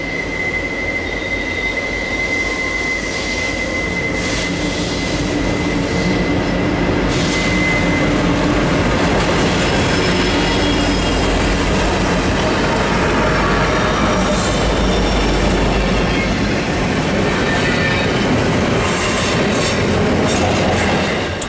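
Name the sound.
Union Pacific freight train passing, SD70M and C45AH locomotives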